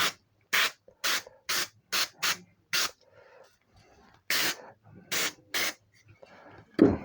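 Cleaner sprayed from a can onto the slide of a Colt 1911 .45 ACP pistol, a run of sharp hissy bursts, several short and some longer, close and loud, with quiet gaps between.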